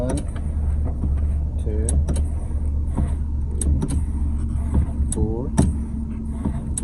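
A 2014 Nissan NV3500 van with its 4.0 engine idling steadily while the brake pedal is pumped several times, with faint clicks and creaks over the low engine hum as a man counts aloud.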